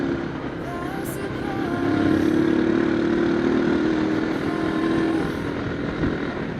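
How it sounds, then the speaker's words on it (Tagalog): A small motorcycle engine, a new scooter-style bike given as a birthday gift, idles and revs nearby, a steady buzzing drone that swells and holds, with faint background noise and no clear talk. "Ayan na yung motor mo."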